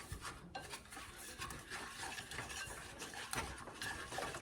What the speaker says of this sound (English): a third of a cup light brown sugar, and 4 teaspoons of unflavored gelatin. Let's give that a whisk.